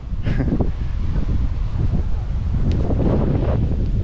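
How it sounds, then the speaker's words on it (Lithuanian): Strong gusting wind buffets the microphone outdoors on a farm, a loud, continuous low rumble with rushing bursts that fills the whole clip. "Čia vėjas labai stiprus šiandien."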